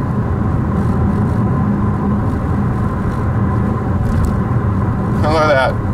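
A Ford Escape engine with a torque converter clutch fault, the RPM surging while the converter is locked: a loud, steady close-up drone and rumble heard from inside the car, with a brief rising whine near the end.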